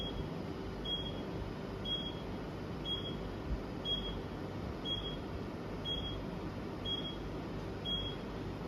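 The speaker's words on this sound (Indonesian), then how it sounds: "Jadi tadi adalah bunyi dari timer Apgar yang kedua" An infant radiant warmer's Apgar timer sounds a run of short, high electronic beeps, about one per second for eight or nine beeps, thin and steady over a low, constant hum of machine noise.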